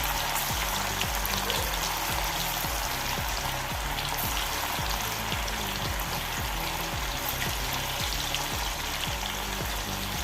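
Anchovies fry in hot oil for a Kerala-style fish fry, giving a steady dense sizzle with a fine crackle and a soft repeating bubbling pulse underneath, loud and close with no talking.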